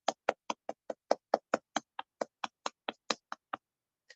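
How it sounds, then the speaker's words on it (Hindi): About eighteen evenly spaced hand claps from a single person, crisp and close, in a steady quick rhythm for an online class cheering for Hareem, with no voices over them and one last clap after a short pause. "हरीम के लिए तालियाँ।"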